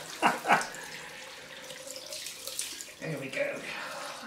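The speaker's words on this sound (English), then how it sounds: "So I'll call this the cold rinse." Cold water rinse over a freshly shaved head, faint running and splashing water with a few soft splashes, under quiet talking.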